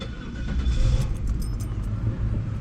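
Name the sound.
1999 Cadillac Deville engine starting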